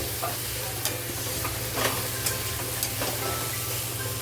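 Corn and spices frying in a pan for paneer pulao, a steady close sizzle with occasional sharp scrapes as a spoon stirs the mix, no voices.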